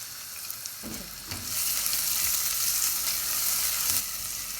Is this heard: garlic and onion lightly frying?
yes